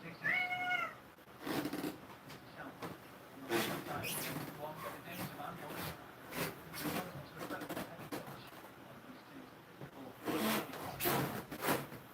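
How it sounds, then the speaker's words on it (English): A cat meows repeatedly while being cleaned, with some yowling cries among the meows. Rustling and handling noises fill the gaps, and people can be heard faintly in the background. "Operation Clean the Cat."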